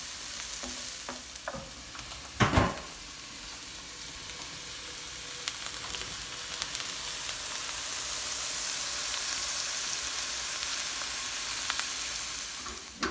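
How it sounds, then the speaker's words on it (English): Onions sweat and sizzle in a hot pan with a steady frying hiss, broken early by a few scraping stirs and clatters of a utensil, close up and without talk. "Onions have sweat down a little bit"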